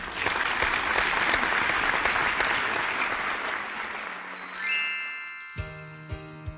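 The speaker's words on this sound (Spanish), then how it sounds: "Nos merecemos un fuerte aplauso." Loud applause from a Spanish-language educational TV programme swells and sustains, then fades into a bright chiming jingle with ringing bell-like tones and a few soft dings at the end.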